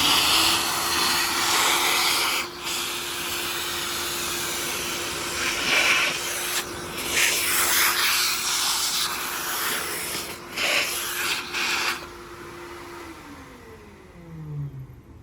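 A vacuum cleaner runs steadily in a window track and screen track during window cleaning, a loud close whine with brief dips and bumps as the nozzle moves, then winding down at the end.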